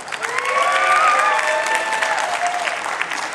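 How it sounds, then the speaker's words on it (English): Crowd applause at an outdoor charity walk to end Alzheimer's in Muskegon, a steady burst of clapping from many hands with some cheering mixed in, with voices faintly audible among the crowd. "Give them a big round of applause."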